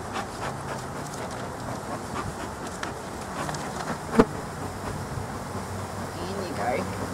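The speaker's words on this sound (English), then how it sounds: "There's quite a few bees here." Honey bees buzz softly around a beekeeper's hive, a low continuous drone with occasional louder passes, under faint background noise and a brief knock.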